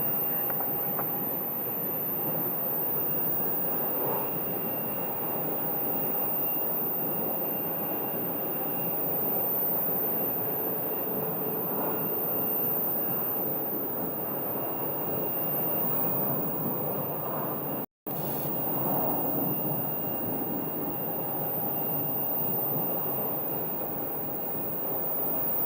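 A jet airliner arriving at Phoenix Sky Harbor Airport makes a steady, broad engine roar with a faint whine, continuous and fairly distant, with no voices.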